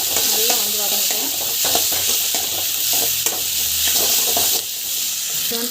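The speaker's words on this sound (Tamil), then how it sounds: "டொமாட்டோ வந்து ஆட் பண்ணிடலாம். ஆட் பண்ணிவிட்டு இது நல்லா வந்து வதங்கட்டும்." Chopped tomatoes sautéing in a pan, loud and close, with continuous sizzling under repeated scraping and stirring strokes of a spoon against the pan.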